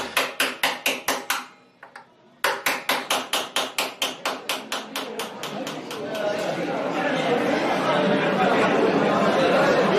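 Sharp metallic hammer strikes ring out in a fast, regular series as metal is hammered into decorative patterns in Tunisia, pausing briefly, then continuing as a crowd's chatter swells underneath.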